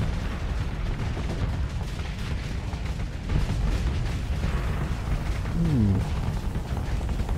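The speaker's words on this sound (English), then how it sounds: "Fire the missiles." Missiles launch and strike ships in the space combat game Starsector, a dense run of rumbling booms and impacts rolling continuously under a busy low-end roar, loud and steady with a few sharper hits near the end.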